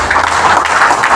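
Audience applause for a guest invited onto a stage, a short, loud, dense burst of many hands clapping together, steady throughout with no voices over it.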